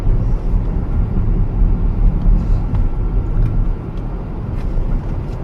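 A Rivian R1S electric SUV drives on a city road, giving a steady, loud low road rumble and tire noise throughout with no voices.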